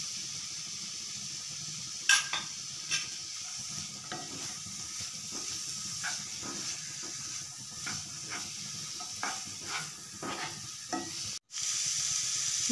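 Chopped onion frying in a pan while a spatula scrapes and stirs it, with a soft steady sizzle under a run of repeated scraping strokes, close and moderately quiet.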